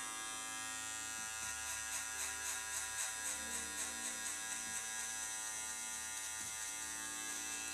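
An electric hair clipper fitted with a comb guard buzzes steadily while cutting hair during a step-by-step mohawk fade haircut, a close, even hum with faint rhythmic dips as the blade moves through the hair.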